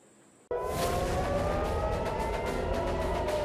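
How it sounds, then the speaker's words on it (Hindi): An air raid siren sounds in Israel as a warning of a missile attack, starting abruptly after a short quiet lead-in and holding a loud, steady, sustained wail. "इसी तरह हमले का सायरन बजने लगता है"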